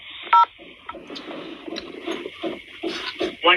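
Touch-tone keypad beeps from a phone call to a high school's automated menu, a short sharp DTMF burst near the start followed by faint line noise and low murmuring background sounds.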